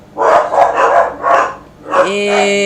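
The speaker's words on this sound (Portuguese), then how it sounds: "para ver se diminui o ruído, o latido deles" Several dogs bark four times in quick succession close by, followed by a sustained tonal whine or hum starting near the end.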